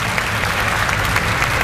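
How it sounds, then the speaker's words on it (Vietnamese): A studio audience at a televised comedy contest applauds a young contestant's performance, steady loud clapping filling the whole short stretch. "một lần nữa hãy cho một tràng pháo tay dành cho bài thi của bé Khánh My"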